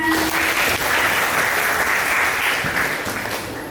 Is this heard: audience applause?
yes